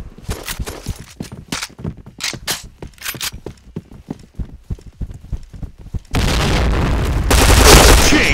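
Rapid gunshots crack in a steady irregular run from PointBlank, the online first-person shooter, then a loud sustained explosion roars and swells to the end.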